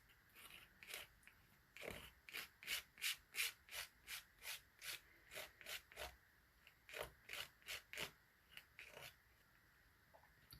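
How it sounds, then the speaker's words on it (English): A hand smooths down card stock across a whole piece, making quiet, rhythmic rubbing strokes, about twenty close swipes in a row on their own. "I'm actually going to just smooth it down and go right the way across the whole piece."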